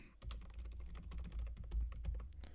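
Fast, steady typing on a computer keyboard, a dense run of close, crisp key clicks over a low background hum with no voices.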